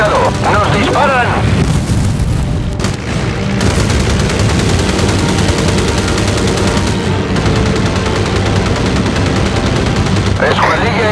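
Naval battle gunfire in Battlestations: Pacific, loud and continuous with machine-gun bursts and booming cannon over heavy rumble, and voices calling out in Spanish partway through.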